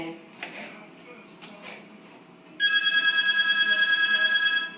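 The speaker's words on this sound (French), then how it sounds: "cet appel téléphonique qui se trouve au bureau adjacent" A telephone rings in an adjacent office, starting partway through as a bright repeated electronic trill, after a stretch of quiet kitchen clatter and handling noises.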